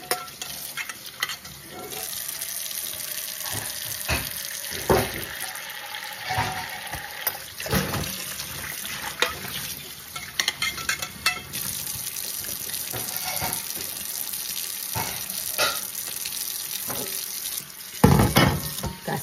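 Water runs steadily from a household kitchen faucet during dishwashing, a continuous hiss with clinks and stirring knocks of dishes in the sink throughout, fairly close and with no voices.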